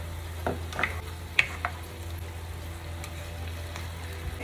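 Pumpkin frying in a pan with ground cumin, green chili and garlic added, a low steady sizzle under a few soft stirring clatters, alone without voices.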